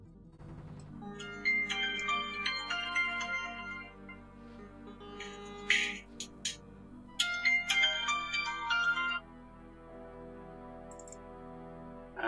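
A phone alarm goes off in a room with typing sounds: repeated electronic ringtone melodies in bursts with short pauses, fairly close and clear, with no talking.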